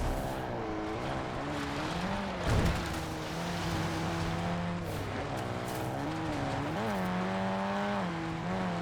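A buggy's engine drones continuously in Call of Duty: Black Ops 6 Warzone on Verdansk, its pitch rising and falling with throttle changes, with a brief scraping burst partway through.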